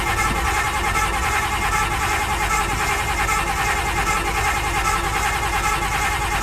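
A 1993 Ford F-250 engine cranks on brake cleaner during a failed cold start, giving a loud, steady churning roar that runs unbroken throughout.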